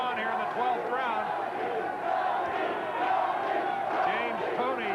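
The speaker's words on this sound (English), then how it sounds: "James Toney's section begins to chant his name" An arena crowd at a boxing match in the Hilton, twelfth round, roars and chants a fighter's name in loud rhythmic waves, dense and continuous, with a commentator's voice faintly mixed in.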